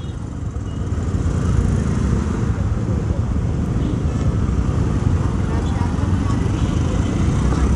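Steady, loud road traffic during monsoon rain, a continuous broadband wash of passing car and motorcycle engines and wet tyre hiss with no breaks.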